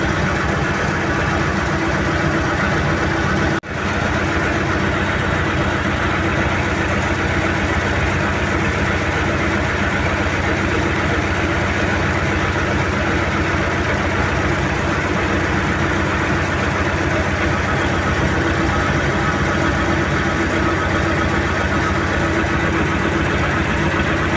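A tractor engine idles in a steady, unbroken drone with a low throbbing rumble, loud and close throughout, broken only by one brief click early on.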